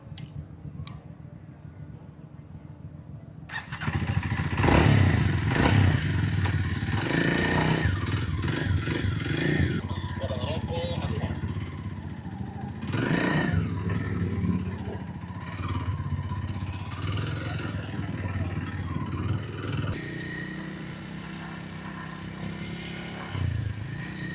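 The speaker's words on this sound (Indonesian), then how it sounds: "gue pengen nyobain Meguro S1 di area test ride IMS 2025" A Kawasaki Meguro S1 retro motorcycle on the test ride course at IMS 2025 gives a rough, wind-buffeted engine drone that swells and eases as it rides, with rattles and clatter but no talking.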